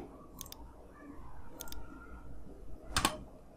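Three separate sharp key clicks ring out on a computer keyboard while drafting in AutoCAD, widely spaced over a quiet room hum, the last one loudest.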